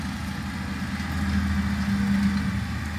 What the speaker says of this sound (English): There's just something about a JD tractor.